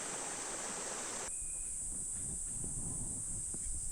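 A forest stream near Seonunsa temple in Gochang, Korea, rushes with a steady, even wash of flowing water, with a thin insect-like hiss above it and no voices.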